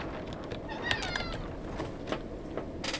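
A pet cat gives a short series of faint, wavering meows in the background, a couple of thin mewling cries amid a low, steady room hum, heard alone without anyone talking.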